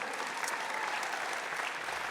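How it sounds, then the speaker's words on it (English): Audience applause at a ribbon-cutting ceremony for a youth basketball center in Philadelphia, steady dense clapping from a crowd throughout. "Give yourselves a round of applause because we did it."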